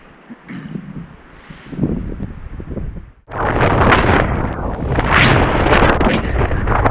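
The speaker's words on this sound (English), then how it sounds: "the wind is certainly picking up" Wind blowing at a mountain camp while trekking Sylarna, starting as moderate gusts before a sudden loud surge of heavy, roaring buffeting against the microphone that stays intense to the end.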